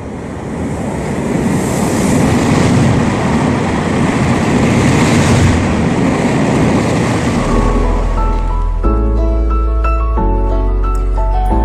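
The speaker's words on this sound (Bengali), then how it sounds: "তখন ব্রিজের উপর দিয়ে যাচ্ছে সাঁতরাগাছি পুরুলিয়া রূপসী বাংলা এক্সপ্রেস" The Santragachi-Purulia Rupasi Bangla Express crosses a bridge beside the Khirai flower fields on a foggy dawn, giving a loud, steady roaring rumble that deepens into a heavy low drone with a tonal hum toward the end. No one speaks.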